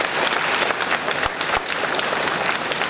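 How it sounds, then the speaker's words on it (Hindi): A crowd at a birthday cake cutting ceremony at a Hardoi centre claps loudly and steadily, dense applause filling the whole three seconds without a break. "तालियां बजा दीजिए, इनके दिन बढ़ जाएं।"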